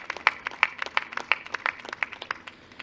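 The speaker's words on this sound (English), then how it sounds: "now I think it's time for a big round of applause to the SciTech staff" Applause from a graduation audience honoring the SciTech staff at Springfield High School of Science & Technology, a steady patter of many hands clapping, moderately near and with no voices over it.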